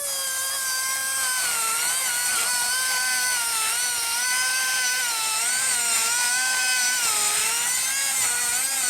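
A Rockwood micro pencil die grinder grinds a weld at low speed, producing a continuous high-pitched whine that wavers gently in pitch as load changes, close and steady with no talk.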